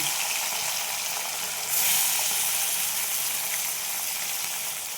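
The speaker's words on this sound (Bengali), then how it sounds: "এবার কড়াইয়ে তেল দেওয়া রয়েছে, গরম হয়ে গেছে। আমি মাছগুলো ভেজে নেব।" Small puti fish fry in hot oil in a wok, giving a continuous bright sizzle that swells briefly midway and holds steady at close range.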